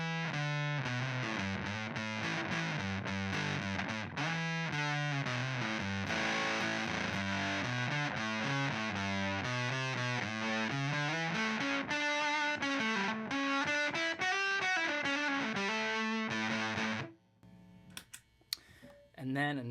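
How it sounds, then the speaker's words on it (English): An electric guitar played through an Analogman Peppermint Fuzz pedal, modelled on the 1960s Maestro fuzz tone, gives nasty, buzzy distorted chords and runs. It is loud and continuous, then breaks off near the end into a few clicks. "this is the Peppermint Fuzz by Analogman. This is based off of the Maestro fuzz tone from the 60s"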